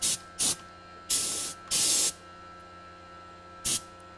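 Short blasts of compressed air from a needle-tipped air gun fitted with a Luer Lock needle on an NPT threaded adapter, sounding as five hissing bursts, two brief, two longer, then one more brief, over a steady background electrical hum.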